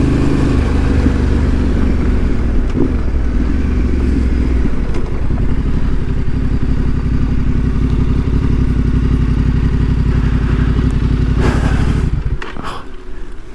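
Motorcycles of passing bikers near Dalmorton Historical Village on the Old Grafton Road, a loud continuous engine rumble with clattering mechanical noise that holds steady for about twelve seconds, then drops away abruptly.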